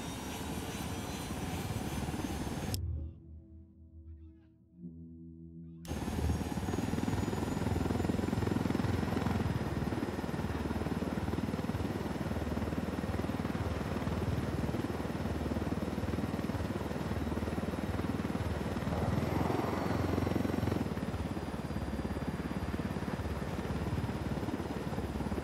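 A helicopter in the video game Ghost Recon Wildlands flies with a loud, steady rotor and engine drone. The drone cuts out briefly near the start, then returns and holds continuous and close.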